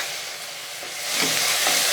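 Onions with ginger garlic paste fry in a pan for a mushroom kurma, giving a steady soft sizzle that swells a little louder partway through, with faint stirring scrapes.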